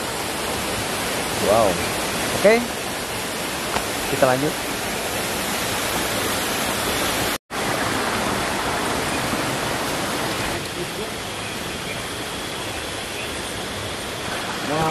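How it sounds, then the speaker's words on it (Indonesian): Roaring waterfall spray drifting like mist inside a cave behind the falls, a loud steady hiss of rushing water throughout, with a brief drop to silence midway and a voice speaking over it near the start. "karena kita di bawah air terjun, jadi ini adalah air, cipratan-cipratan air yang hampir seperti kabut"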